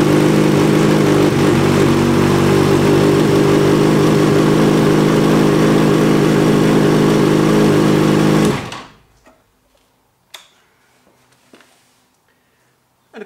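A motorcycle engine, just serviced with fresh oil and a new filter, runs steadily at a loud, close idle for about eight seconds, then cuts off, leaving faint knocks and clicks in the quiet.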